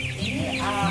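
Chickens at a school poultry farm cluck in a brief, dense chorus, several hens close together with steady overlapping calls.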